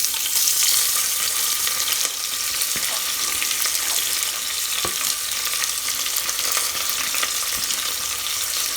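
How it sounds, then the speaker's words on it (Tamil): Onions sizzle loudly in a pan of hot oil while cooking for a mutton and potato kulambu, a steady close hiss broken by occasional scrapes and clicks of stirring. "இதில் இப்போ நான் வெங்காயம் சேர்த்துறேன்."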